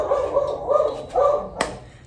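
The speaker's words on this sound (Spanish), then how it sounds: "con los ladridos del perro incluido acá" A small dog barks repeatedly indoors, giving rapid, close yappy barks in a steady rhythm with a sharp click partway through.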